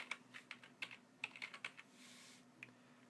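Quiet, irregular key clicks from a computer keyboard as a command is typed into the Windows command prompt, about a dozen soft taps in short bursts with a steady low hum beneath.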